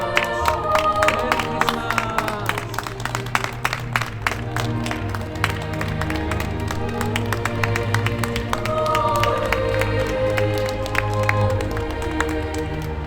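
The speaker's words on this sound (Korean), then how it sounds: "자, 박수로 주님께 영광 올려드리겠습니다" A church congregation applauds at a Christmas tree-lighting ceremony, with dense, sustained clapping from many hands, near and loud, over a steady tonal backdrop that runs throughout.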